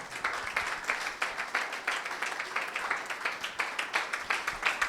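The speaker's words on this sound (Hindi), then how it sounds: "यीशु के लिए जोरदार तालियां बजाएं" A church congregation applauds in a rapid, fairly dense run of clapping, evenly sustained and moderately loud, with rhythmic pulses as many hands beat together.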